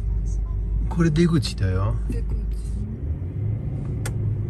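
Car engines rumble at low pitch inside a multi-storey car park, with a deep steady hum under people talking and brief squeaks and clatters echoing around.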